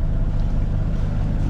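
A sailboat's inboard motor chugging steadily at sea on a passage between Port Leucate and Collioure, a low, even rumble mixed with wind and water noise, with no talk.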